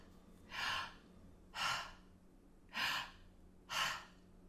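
Four strong, airy breaths in a steady rhythm about a second apart, fast belly breathing during a breath activation exercise, close and clear over quiet room tone.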